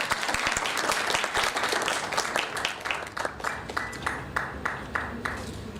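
An audience applauds at an academic conference session honouring a university researcher, the clapping dense and sustained at first, then thinning into a few scattered claps near the end.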